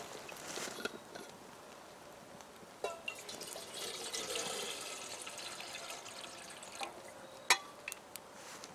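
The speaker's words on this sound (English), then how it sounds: "we're gonna go ahead and put some water in here." Water poured into a pot hanging over a campfire on a tree grill outdoors, quiet running and splashing liquid with a few sharp clinks, faint and close, with no talk.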